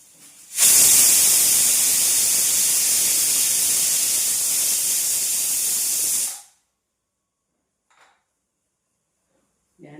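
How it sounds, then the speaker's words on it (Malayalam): A 17-year-old pressure cooker lets off steam; after a faint knock, a loud, steady hiss runs for about six seconds, then stops sharply, leaving near silence broken by faint speech. "ഞാൻ 2 വിസിൽ വന്നതില് എൻ്റെ കുക്കറിൽ ഒരു 3 വിസിൽ വരണം കേട്ടാ."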